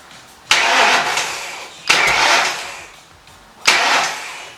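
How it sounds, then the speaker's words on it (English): A 1986 Ford Mustang GT engine cranked over by the starter in three separate bursts, each a loud, close churning whir that fades before a short pause, with no running start. "I'm going to crank the motor over until the exhaust starts going down"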